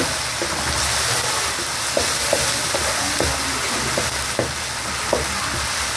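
Ginger, garlic, onion and tomato sizzle steadily in a hot pan, a dense frying hiss with light clicks and scrapes from stirring scattered throughout.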